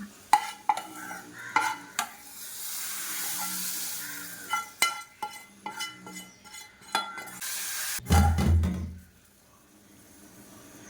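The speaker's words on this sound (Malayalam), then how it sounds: "ഇത് നമ്മുടെ മീൻ കറിക്ക് ഒഴിച്ചു കൊടുക്കാം." Hot tempering poured into a Kerala fish curry, with a burst of sizzling and bubbling after scattered clinks and scrapes of a spoon and pan, then fading to quiet.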